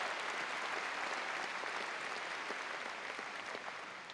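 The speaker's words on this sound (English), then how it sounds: "Let's give them a round of applause" High school graduation crowd applauds its former elementary and middle school teachers, a continuous, moderately quiet patter of many hands that tapers slightly toward the end of four seconds.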